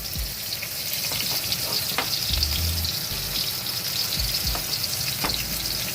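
Vegetables simmering in their own boiling water with mustard-poppy paste for Bengali chachchari, a steady close sizzle and bubbling with a few scrapes of stirring throughout.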